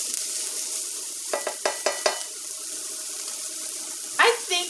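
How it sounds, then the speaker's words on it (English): White onion frying in a pan, a steady close hiss with a short run of quick rhythmic taps in the middle and a brief louder rattle near the end. "I love the smell of fried onion."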